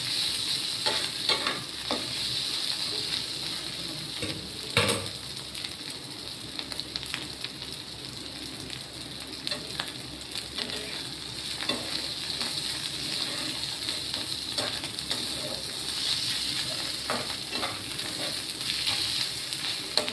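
Banana flower frying in a small wok, a steady close sizzle with occasional stirring scrapes and soft pops running throughout, no voices.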